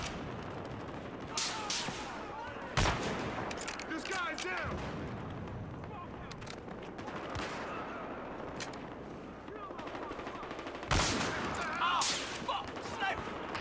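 Gunfire in Battlefield Hardline on a city block, including AWM magnum rounds, comes as scattered loud cracks and booms set apart by quieter stretches, with someone talking over the action.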